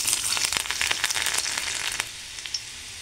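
Garlic sizzling in a spoonful of hot oil, tempered for a spring onion dish. Dense crackling and spitting for about two seconds, then it thins to scattered pops, close and alone.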